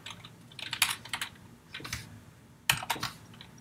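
Fingers type code on a computer keyboard in quick clustered bursts of crisp key clicks, close and clear, with short pauses between runs and no voices.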